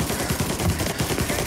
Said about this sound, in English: Golly, who's shooting?